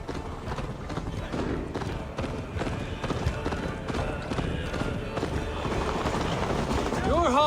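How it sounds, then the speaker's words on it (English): Rapid hoofbeats of a galloping horse in Assassin's Creed Valhalla pound steadily under game music and effects, with a voice speaking over the ride. "Ride like Sleipnir's hooves!"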